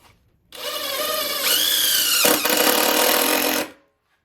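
A power drill drives a screw into a whiskey barrel bar, its whining motor running steadily for about three seconds with a pitch rise midway, loud and close, with no voices.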